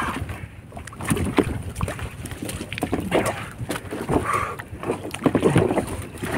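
A small wooden boat is paddled around a baklad fish trap in Philippine waters during a jellyfish run, with splashing paddle strokes and hull knocks under gusty wind noise on the microphone.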